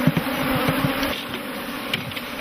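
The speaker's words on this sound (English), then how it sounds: "The bees know the queen is inside and will quickly re-enter the hive." Bees swarming around hives in African industrial beekeeping make a continuous dense buzzing hum, close and fairly loud, with a few nearer individual insects passing the microphone.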